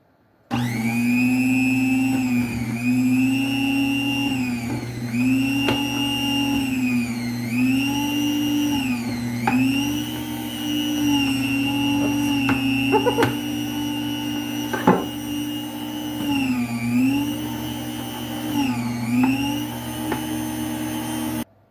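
An electric meat slicer runs steadily through homemade lunch meat, a constant motor whine with rhythmic swells as each pass of the blade cuts, close and loud with no talking.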